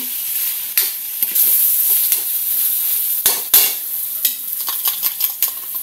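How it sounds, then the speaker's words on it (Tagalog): Corned beef fried rice sizzles steadily in a hot pan while a spatula stirs and scrapes it, with irregular clinks and scraping strokes over a continuous frying hiss and no talking. "Masarap yung mga natutoast sa ilalim. Balikan natin habang hinahalo ko."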